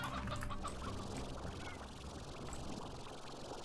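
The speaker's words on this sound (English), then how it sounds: "Roosters can spawn here." Chickens cluck softly amid a steady Slime Rancher game soundscape in the Quarry area, faint and somewhat distant, with no talking.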